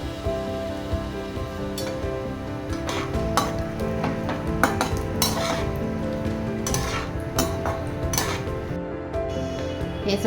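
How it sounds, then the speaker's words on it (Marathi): Raisins and figs roast in ghee in a pan, with a soft sizzle under repeated scraping and clinking of a spoon against the metal, a busy stirring rhythm close by and no talking. "याच्यामध्ये मनुका आणि अंजीर भाजून घेऊया"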